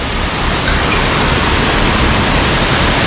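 Maarikkuthu waterfall, on the Wagamon route and running full, roars as a loud, unbroken wash of rushing water heard up close with no voices.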